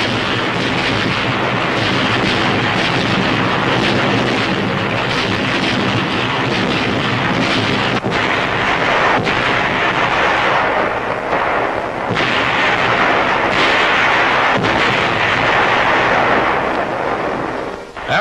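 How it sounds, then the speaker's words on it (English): Heavy naval and air bombardment of Saipan, a continuous loud roar of artillery fire and blasts with scattered sharper booms throughout. "After 4 days of air and naval bombardment, United States Marines take over."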